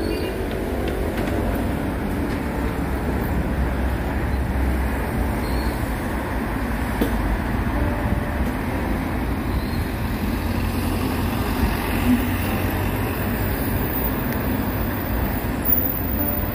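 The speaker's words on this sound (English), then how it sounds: "Seoul Metro number 2 line, Seoul National University station." A Seoul Metro Line 2 subway train rumbles at Seoul National University station, a steady, loud low roar of rail and platform noise with no speech, continuous throughout.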